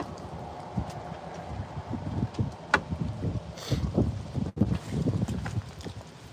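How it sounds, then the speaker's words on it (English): Gusty wind buffets the microphone with low rumbling bursts, steady and moderately loud outdoors. "A little windy here."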